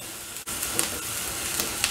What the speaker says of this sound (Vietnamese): Khi mình xào nó hơi vàng vậy nè